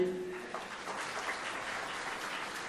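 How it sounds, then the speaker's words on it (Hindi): Sustained applause from an audience at a book launch ceremony, even and moderately distant, filling the whole stretch without pause. "तमाम हजरात एक मरतबा फिर इस किताब के इजरा के ताल्लुक से तालियां बजा दें।"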